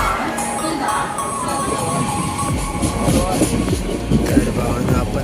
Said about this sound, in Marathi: तर भावानं आपण आता पनवेलवरून ट्रेन पकडली आहे दिवा सावंतवाडी पॅसेंजर